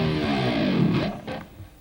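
Whammy bar dive on a distorted electric guitar: a dense, loud sustained tone that sweeps downward and fades toward the end, with a couple of brief flutters near the close.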